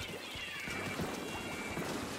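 Dense steady hiss of the Ink Storm rain special in Splatoon 2, a video game, pattering continuously throughout with faint thuds underneath and no talking.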